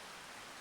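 Rain in the farming video game Farming Simulator 25 makes a steady, soft hiss with no breaks. No other sound is heard.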